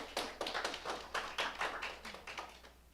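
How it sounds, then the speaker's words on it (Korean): Scattered hand claps from a small congregation at a Sunday Anglican Eucharist service in a Jeju church, about a dozen separate moderately faint claps in an uneven rhythm, with no talking. "그래도 격려의 박수를 좀."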